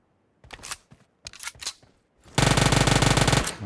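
Gunfire in the mobile video game PUBG Mobile in a snowy area, a few short separate bursts of shots followed by a loud, sustained rapid automatic volley lasting over a second, close and sharp.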